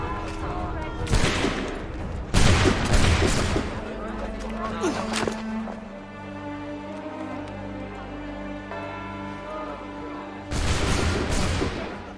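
Musket volleys crack out in Assassin's Creed 3, several loud, sharp bursts of overlapping gunfire with a ringing tail, one volley near the start and another near the end, with voices shouting in between.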